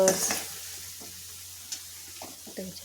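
Nagori dal mixture sautés in oil in a pan for Rajasthani Nagori dal, giving a soft steady sizzle with an occasional spoon scrape and stir.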